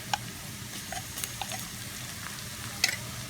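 Garlic-ginger paste fries with onions in a pan for dhaba-style chana dal tadka, a steady close sizzle with scattered spoon stirs and small sharp pops and clinks.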